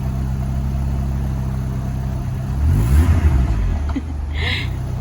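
A convertible car rolls slowly toward a home garage, its engine a steady close low hum that swells briefly with a light rev before easing back, with faint background noise.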